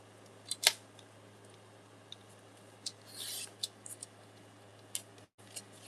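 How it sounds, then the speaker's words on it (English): Scissors snip down a small paper tag in a few quiet, separate cuts and rustles spread over a few seconds, close by against a faint steady hum. "we'll cut that tag down a little bit"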